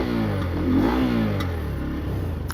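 A Bajaj Pulsar N125 base-model motorcycle engine runs up close and loud, rising in a brief rev before settling into a steady mechanical drone, with no talking.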